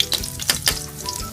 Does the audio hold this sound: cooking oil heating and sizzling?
yes